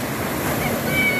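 Sea waves breaking and washing onto a UK beach on a wavy day, a loud continuous broadband rush with wind buffeting the microphone and no talk.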